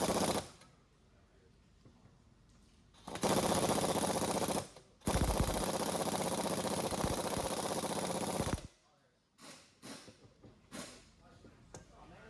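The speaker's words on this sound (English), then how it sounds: "Next, attach the gun to the nut located on the clamshell compressor." An impact gun drives the nut on a clamshell strut spring compressor, two loud rattling bursts of hammering lasting a few seconds each, separated by a brief pause and followed by short clicks and bumps, with a voice talking before and after.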